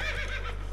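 Roach, Geralt's horse in The Witcher 3 game, gives a short, faint whinny over a constant low hum, with no one speaking.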